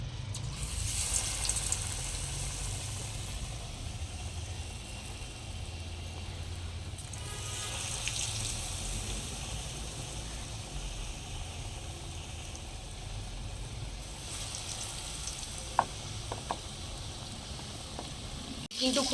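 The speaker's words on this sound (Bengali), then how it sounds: "এবার আমি বেসনের ব্যাটারে ডুবিয়ে আলুর চপগুলোকে দিয়ে দেবো তেলের" Potato chops dipped in gram flour batter hiss and sizzle steadily in hot oil, a continuous frying crackle with occasional faint voice in the background.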